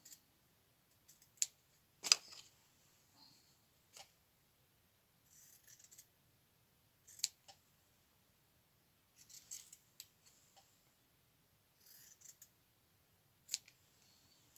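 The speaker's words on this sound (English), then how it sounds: "So let me cut out 4 pieces, 4 strips." Scissors snip paper strips for a junk journal in a quiet room, with sparse, faint crisp cuts and small handling rustles spaced irregularly, one sharper snip standing out near the start.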